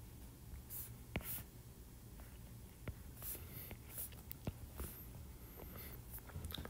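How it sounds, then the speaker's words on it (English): A pen draws axes on paper, giving soft, close scratching strokes and light taps in short bursts, quiet against faint room hum. "So first, you draw the axis."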